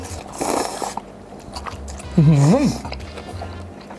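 Someone bites into and chews mala-spiced noodles up close, with soft crunchy mouth sounds early on and a brief voiced murmur partway through.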